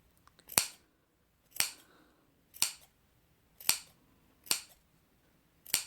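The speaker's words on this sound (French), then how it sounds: "On va venir cranter les arrondis sur tous les côtés" Scissors snip notches into the curved fabric seam allowances of a sewn crossbody bag, six sharp, close, isolated cuts spaced about a second apart against a quiet background.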